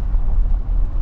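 A 2023 Nissan Armada Platinum towing 8,000 pounds, a tilt trailer carrying a Jeep, over rough washboard gravel roads, heard as a steady low cabin rumble and road drone with no talk.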